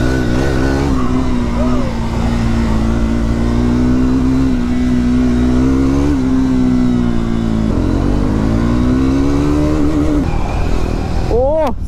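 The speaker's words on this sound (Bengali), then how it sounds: "একটু বাইকটা চালাই" A sport motorcycle ridden fast on the open ground at Mandarmani, its engine droning steadily and loud throughout with rising and falling revs, a brief whine near the end.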